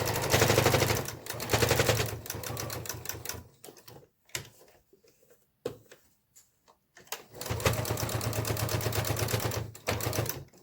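A sewing machine back-stitches over elastic ear pieces on a fabric face mask, running in a fast rattling burst, pausing through quieter gaps with small clicks, then rattling steadily again near the close.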